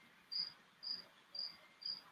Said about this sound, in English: oh it's a big cricket that got in the house